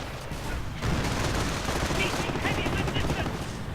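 Heavy MG4 machine gun fire in a World War II strategy video game, with dense, continuous automatic bursts and battle noise that stay loud throughout and build slightly after the first second.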